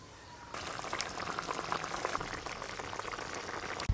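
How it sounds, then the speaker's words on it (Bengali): Tangra fish curry in oil and chili gravy bubbling vigorously in a pot, a steady close rolling boil with crackling sizzle that starts abruptly after a quiet moment and continues alone with a small clink near the end. "ঝোলের সাথে একটু ভালো করে ফুটে যাক"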